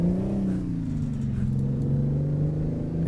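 A Mack B61 truck engine in the American Truck Simulator game, a steady, low rumbling idle with a slight rise and fall in pitch, heard alone and up close.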